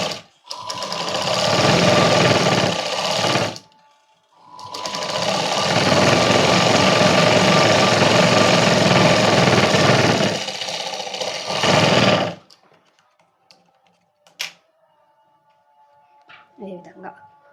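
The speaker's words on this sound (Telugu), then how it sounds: "ఇట్ సైడ్ కూడా ఒక ఎక్స్ట్రా స్టిచ్ చేసుకుందాం." A sewing machine stitches a princess-cut blouse, running loud and close in three bursts of rapid whirring with short pauses between them, then stopping, followed by faint handling clicks.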